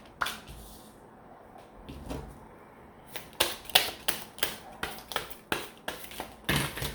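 Tarot cards are shuffled by hand in a quiet room, a string of short, crisp riffling and slapping bursts that grow faster and louder toward the end.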